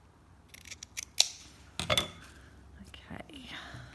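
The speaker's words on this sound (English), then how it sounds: "I think I should use my other scissors for this edge as well" Scissors make a few crisp snips while trimming fabric for a slow-stitched wildflower fabric tag, close and fairly quiet, with soft whispered speech and small handling sounds around them.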